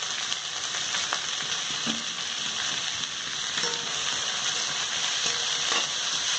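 Capsicum, carrot and beans sauté in a pan for paneer fried rice, a steady close sizzle with occasional soft scrapes and taps of a stirring spoon and no talking.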